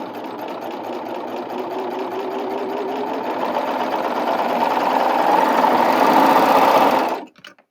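A serger hums in a fast, even whir while sewing a 3-thread overlock gathered stitch, holding steady and growing slightly louder before stopping abruptly at the end.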